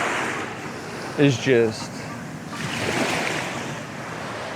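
Ocean surf rolls at Lake Worth Beach, a steady wash of breaking waves with some wind noise on the microphone, while someone speaks a few words over it.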